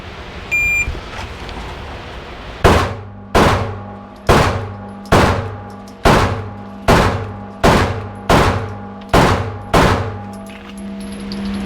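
Ten evenly spaced gunshots ring out one after another at a B8 bullseye target, each a loud, sharp crack with a short ringing decay, following a quiet pause at the start.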